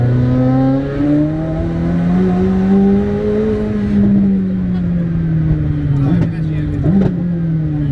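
The McLaren Senna's Formula 1–derived engine revs high and loud from close by, its pitch climbing and falling in long sweeps while someone talks over it.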